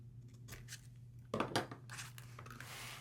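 Scissors snip through craft material for an accordion pocket envelope, a few quiet close cuts with a louder crisp snip in the middle.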